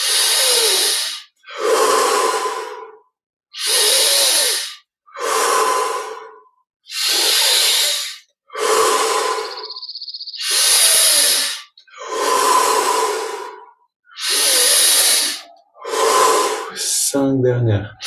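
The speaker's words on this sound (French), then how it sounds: "on continue avec 10 respirations encore" Deep, forceful breaths during guided meditation, about a dozen long loud inhale-exhale cycles in a steady rhythm, close and alone with silence between, ending in a quick rapid breath.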